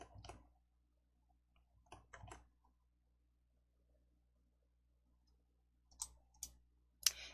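Computer mouse clicking while placing coding blocks: a few sparse, faint, close clicks separated by long quiet gaps, with a sharper double click and a final louder click near the end.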